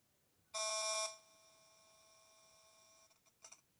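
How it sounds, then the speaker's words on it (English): Cell phone radio frequency radiation turned into sound: a loud, harsh buzzing burst lasting about half a second, then a sustained quieter electronic drone, ending with a few short stuttering pulses. "Cell phone."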